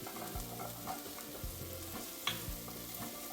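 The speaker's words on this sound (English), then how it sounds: "Add in the crushed garlic and cook for a further 2 minutes." Crushed garlic and softened onions sizzle and fry in a cast iron pot, a soft close crackle broken by a few scraping stirs, with no voices.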